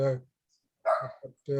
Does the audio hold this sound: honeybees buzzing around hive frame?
no